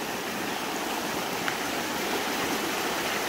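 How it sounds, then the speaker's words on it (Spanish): A swollen, flooded river rushing at dawn, a broad steady roar of churning water that stays loud and unchanging throughout, with no voices. "Está bien grande el río"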